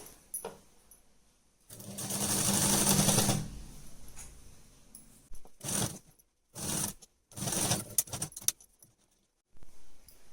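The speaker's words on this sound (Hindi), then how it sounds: "अब इस ऊपर से हमें एक सिलाई कर देनी है बैक पार्ट के इस तरह से।" A sewing machine stitches the back part of a kurti, with one longer steady run of fast needle clatter followed by several short bursts and rustling handling noises, close up.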